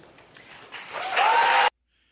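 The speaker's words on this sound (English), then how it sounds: "I had to cut the applause off there" Audience applause at a Democratic presidential debate, a broad wash of clapping that swells and grows louder before being cut off abruptly, with no voices on top.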